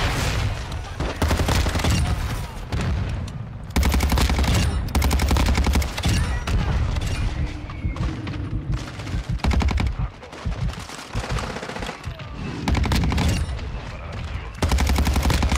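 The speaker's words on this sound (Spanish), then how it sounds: "Pero si le estoy disparando a quemar ropa" Rapid automatic gunfire in Call of Duty: Modern Warfare, loud bursts of shots in quick succession with brief gaps between volleys, continuing across the whole stretch, with a voice faintly underneath.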